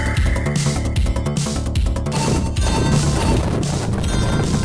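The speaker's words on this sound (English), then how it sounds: "I love the explosions, because they've got that Mega Drive explosion" Retro Mega Drive-style explosions from the Tenza video game trailer, a rapid series of loud crunchy booms and crashes layered over energetic game music, dense and continuous with no talking.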